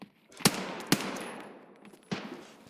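Gunshots in Escape From Tarkov, BP rounds fired indoors: two sharp close shots half a second apart with reverberant tails, then a third shot after a pause.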